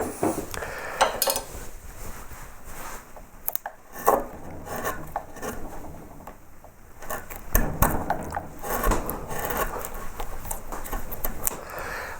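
Hand carving tool scraping and paring waste wood from the lower edge of a carved open book cover, a steady run of rough rasping scrapes and small knocks, fairly close, with no talk.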